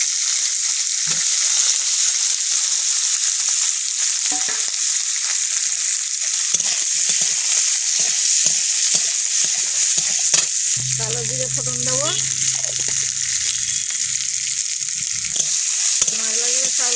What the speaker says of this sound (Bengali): এই রসুনগুলো দেবো শুকনো লঙ্কা দেবো লাল লাল হয়ে যায় পেঁয়াজগুলো দিয়ে দেবো